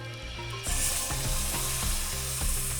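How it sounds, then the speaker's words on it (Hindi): Cloves and cumin crackling in hot oil for a tadka, a loud steady sizzle with rapid pops and spits throughout, close up and without talk. "ये चटका लौंग, ये गया जीरा, और इसके साथ में जीरा हल्का सा नटी ब्राउन हुआ"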